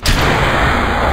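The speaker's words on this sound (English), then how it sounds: "we can now ditch this upper stage of the rocket" A rocket upper stage separating in Kerbal Space Program gives a sudden loud, booming blast followed by a sustained roaring rush that fills the brief moment.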